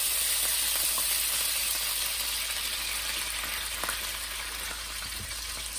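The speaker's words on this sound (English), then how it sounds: "I'm gonna add about a cup of beef broth in there" Beef broth sizzles and hisses steadily in a nonstick pan holding meatball drippings, a loud, close, continuous frying noise that eases off slightly toward the end, with no voices.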